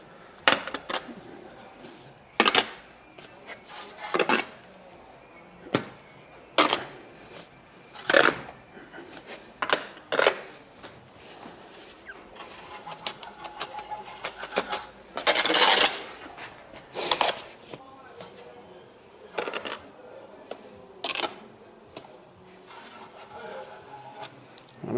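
A steel trowel scraping across a bed of mortar while bricks are laid, giving repeated short rasping strokes separated by quiet gaps, close and fairly crisp, with faint background room noise.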